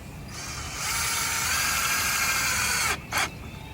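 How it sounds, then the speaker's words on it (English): A power drill bores pilot holes in wood for a fake palm tree, a steady whirring spin lasting a few seconds, then a brief stop and a short second burst, close and clear with no talk. "So I drill pallet holes and everything."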